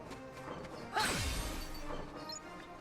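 A single loud crash as a cannon is smashed in Kingdom Hearts III, a sharp impact with a swooshing tail that fades over about a second, heard over quiet game ambience.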